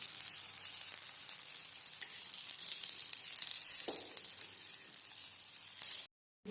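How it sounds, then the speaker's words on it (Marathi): Thalipeeth flatbread fries in a little oil on a pan, a steady bright sizzle that swells slightly midway before cutting to a brief silence at the end. "वरती आपण हे थालीपीठ टाकूया, असं टाकून घ्यायचं, असं टाकायचं, साईडने थोडंसं तेल सोडून घ्यायचं"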